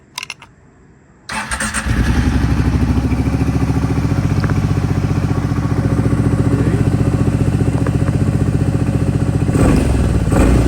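A Kawasaki KFX 700 ATV engine cranks after a brief quiet moment, catches and settles into a loud, steady idle with light throttle blips, running close by for several seconds with no talking.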